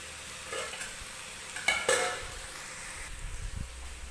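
Ingredients for paneer bhurji fry softly in a pan while a utensil stirs them, with a couple of sharper scraping clatters midway over a low, steady sizzle.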